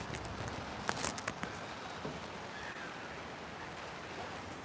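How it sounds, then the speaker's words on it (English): Heavy rain pours down steadily in a dense, even hiss, with a few sharper patters and taps early on and no talking. "now I mean it's raining even harder now"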